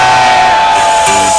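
An outdoor crowd at a Radio 105 event in Bergamo Alta lets out a brief, loud burst of shouting and cheering, a dense wall of voices lasting just over a second.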